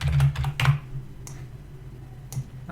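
Close, fairly loud computer-keyboard typing: a quick cluster of key clicks at the start, then a few isolated keystrokes over a faint low hum.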